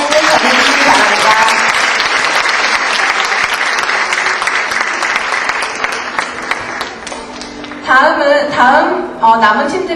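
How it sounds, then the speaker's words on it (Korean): Warm applause from the audience at a university debate competition final during the award ceremony, steady dense clapping that fills the room for about eight seconds before thinning into a few scattered claps at the end. "모두 뜨거운 박수로 감사의 뜻 전해주시기 바랍니다."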